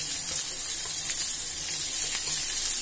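Ground masala paste for mutton kulambu fries in a hot pan, giving a constant bright sizzle close by with faint stirring scrapes and no talking.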